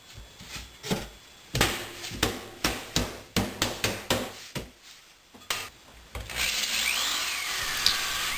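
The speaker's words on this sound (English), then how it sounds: "I'm also attaching it with some screws." Screws being driven into the glued bottom of a wooden box: a run of short, sharp power-driver bursts in quick succession, close and fairly loud, ending in a longer sustained whir.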